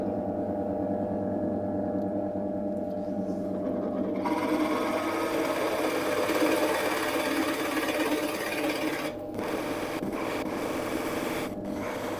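Forstner bit boring into a pre-drilled hole in wood on a woodturning setup, a loud steady grinding whir that holds for several seconds, then drops into a few brief gaps near the end.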